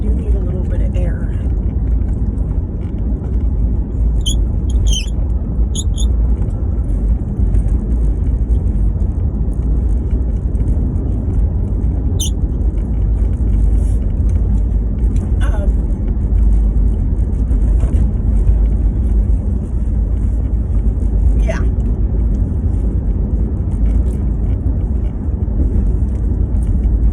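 A car driving with its windows open, a loud, constant low rumble of road and wind noise filling the cabin, with a few faint high chirps over it.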